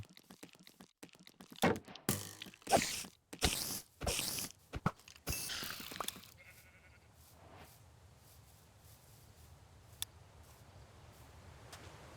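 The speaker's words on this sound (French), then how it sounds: "Mouton." Sheep bleat in modded Minecraft, a run of loud, close bleats clustered in the first six seconds, then fading into a quiet, hissing ambient background with one faint click near the end.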